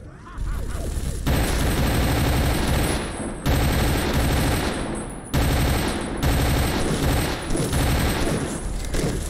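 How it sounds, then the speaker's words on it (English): Sustained assault rifle fire in Fallout 3 hammers loud and close in long, dense bursts, broken by a couple of brief pauses, with no talking over it. "Let's switch to the assault rifle."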